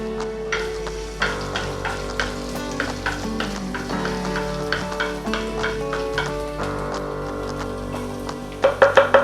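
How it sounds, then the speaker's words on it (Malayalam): Chopped ginger and garlic frying in olive oil, a steady close sizzle with repeated stirring scrapes and clicks throughout, louder tapping bursts near the end, no voices. "ഇതിലേക്ക് ചെറുതായിട്ട് ചോപ്പ് ചെയ്ത ഇഞ്ചിയും വെളുത്തുള്ളിയും"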